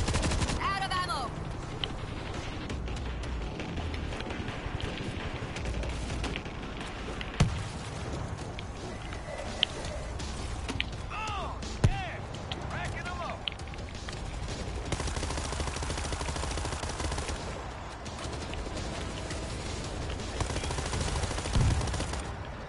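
Gunfire in the zombie shooter World War Z, with bursts of automatic fire and single sharp shots scattered over a busy background of game noise and talking players.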